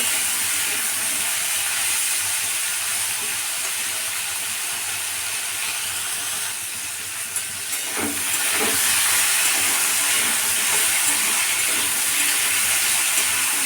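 Chickpeas frying in a pan over low gas with a little salt give off a steady, soft hiss throughout, dipping briefly midway before a couple of light clicks and a slightly fuller sizzle.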